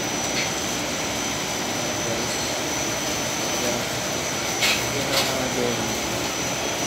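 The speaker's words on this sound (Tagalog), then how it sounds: "isa lang motor niya gumagana nandun sa taas" A plastics-processing machine runs on a single motor, giving a loud, continuous broadband roar and whir with a faint steady whine, unchanging throughout with a couple of brief clatters near the end.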